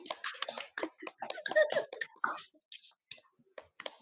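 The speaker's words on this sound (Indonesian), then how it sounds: "tepuk tangan dulu untuk kelompok 3" Classroom applause for group 3 at a school: a cluster of quick, crisp hand claps and scattered clicks over about four seconds, moderately close, thinning out toward the end with brief gaps.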